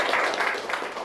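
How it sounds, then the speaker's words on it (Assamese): A brief burst of hand clapping from a group of teachers at a training session, dense and even, fading slightly at the end. "ঠিক আছে বাইদেউৰ কাৰণে এটা হাত চাপৰি হওক"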